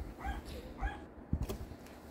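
Household dogs giving a couple of short, whiny yips and barks early in the morning, fairly faint and close by in a quiet room.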